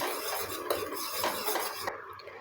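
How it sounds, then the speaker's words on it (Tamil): A spoon or ladle stirring flower-infused homemade hair oil in a metal pan, producing soft scraping and clinking against the pan over a faint sizzle of hot oil, close and steady, with no voices. "அது வரைக்கும் இதை நல்லா கிளறி கொடுங்க"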